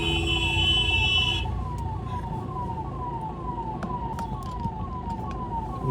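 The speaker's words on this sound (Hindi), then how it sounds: "यहाँ पे देख सकते हो आप सामने एम्बुलेंस है" An ambulance siren wails up close in congested road traffic, repeating a steady cycle of falling tones over a dense rumble of engines. Occasional horn honks and clicks cut through, and no one speaks.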